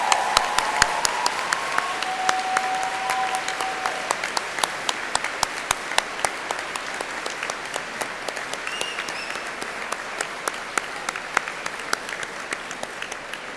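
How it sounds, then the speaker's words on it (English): Graduates at a Cardiff University graduation ceremony cheer and applaud their families, producing a sustained, dense wash of many hands clapping throughout, with scattered sharp claps standing out above the crowd. "But turn and give them a huge cheer and a great big round of applause."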